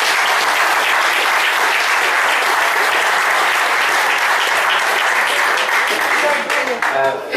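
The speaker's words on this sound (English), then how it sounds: "could I ask you to give them a big round of applause?" An audience applauds at the STL Pro-Am 2012 prize giving, a loud, dense and steady wash of many hands clapping that carries on for several seconds and thins slightly at the very end.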